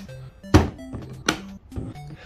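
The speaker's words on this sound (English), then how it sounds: "So enjoy the ASMR of BotsNBlasters adding Vortex ammo to his bin" Nerf Vortex foam discs dropped by hand into a plastic storage bin, several separate close thunks and clattering bumps at an uneven pace, with no talk.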